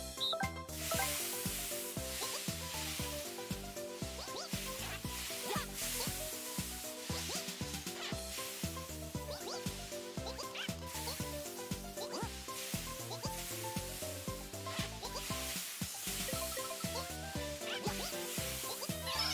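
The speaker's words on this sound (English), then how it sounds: "I cooked a nice tender beef cube." Steady sizzling from a beef cube cooking in a Super Mario Party minigame, a continuous loud frying hiss layered over busy rhythmic game music throughout.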